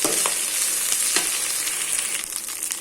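Drumstick leaves (murungai keerai) lightly sautéed in a pan, giving a steady close sizzle with a few soft scrapes of a spoon through it and no talking.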